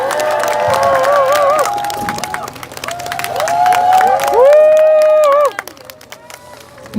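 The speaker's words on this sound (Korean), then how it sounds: "박수 한번 부탁드립니다." Crowd cheering and applauding at a Korean political campaign rally, a loud sustained roar of clapping and shouts with music or a PA tone running through it, peaking before dropping off sharply near the end.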